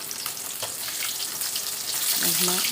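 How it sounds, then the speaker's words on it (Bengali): Boal fish pieces sizzle in hot oil in a kadai, a continuous crackling fry close to the mic with brief scraping and a soft ringing clink near the end as pieces are lifted out. "মাছ ভাজা বেশ ভালোই লাল লাল হয়েছে"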